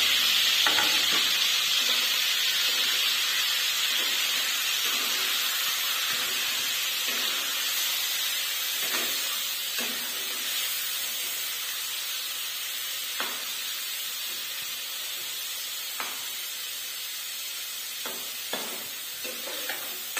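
Paneer fries in a pan over a low flame, a continuous soft sizzle and hiss with occasional light taps and scrapes as the pieces are moved.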